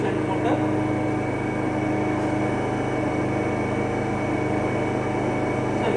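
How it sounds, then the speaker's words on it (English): A DC shunt motor runs steadily in a lab test setup driving a three-phase alternator, giving a continuous droning hum with tonal whine, loud and close, and a voice talks over it. "Now the DC motor has started."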